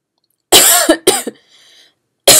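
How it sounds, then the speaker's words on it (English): Two loud, close coughs from a woman, one long harsh cough and then a shorter broken one with a brief throat catch, separated by silence, and a third cough starts just at the end. "Excuse me, coughing."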